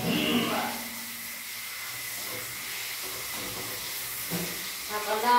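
Poha and peanuts dry-roasting in a pan give a steady, soft hiss that runs evenly throughout at a moderate distance, with faint stirring scrapes underneath and no talk.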